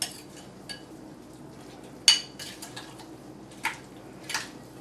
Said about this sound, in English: I'm going to stir it just enough so that your sugar dissolves in there.